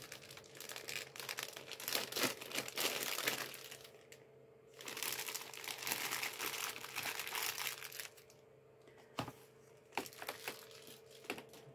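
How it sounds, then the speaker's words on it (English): Plastic packaging from a LEGO Dimensions set for the Wii U crinkles and crumples close up as it is unwrapped, in busy rustling bursts broken by two short lulls, with no talking. "Let's go ahead and unwrap this."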